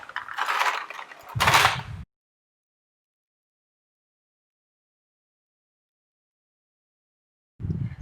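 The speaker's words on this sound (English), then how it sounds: "I'm going to put ice into my cup." Ice cubes clatter into a cup in two short rattling bursts near the start, followed by silence and then a brief final clink of ice, close and fairly quiet.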